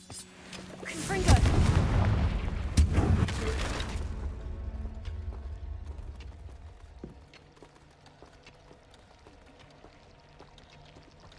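Confringo fire spell blasts in Hogwarts Legacy, a burst of loud crackling, rumbling impacts for several seconds that fades into quieter scattered crackles and ambient game sound.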